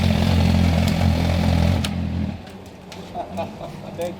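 A Suzuki GSX-R sport motorcycle on track at Phillip Island drones loudly and close with a steady, rich engine tone for nearly two seconds, then drops away to a quieter background with faint voices.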